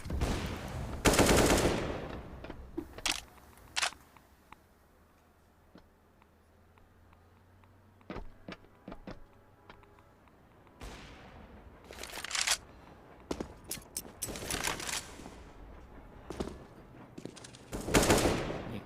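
Counter-Strike gunfire during a professional match on the Train map, a player spraying through smoke: rapid automatic bursts and scattered single shots, loud and close, separated by quieter gaps of game ambience.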